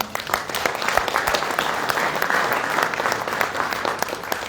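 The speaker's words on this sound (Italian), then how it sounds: "Un applauso." An audience at a book presentation applauds warmly, dense clapping that holds steady for several seconds with no talking over it.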